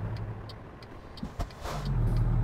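In the American Truck Simulator video game, a stalled truck's engine bogs down: a few soft clicks and thumps, then a low engine rumble swells in and holds near the end.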